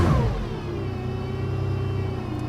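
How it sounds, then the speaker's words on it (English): A Mercedes CLK GTR engine catches with a brief loud burst, then settles into a steady, deep idle rumble with a faint overlying whine, close and alone. "So I'm going to fire the car up"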